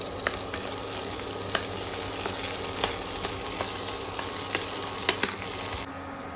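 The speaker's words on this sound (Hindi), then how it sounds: "उसके बाद ये रखे काजू किशमिश को डाल देंगे और इसको फ्राई कर लेंगे।" Cashews and raisins frying in hot ghee give a steady, dense sizzle throughout, with a few sharp pops and crackles scattered over it, before the sound thins out abruptly at the end.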